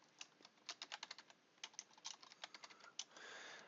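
Rapid, crisp computer keyboard typing while entering C# code, irregular bursts of close keystrokes ending in a short run of quick clicks, heard alone with no talking.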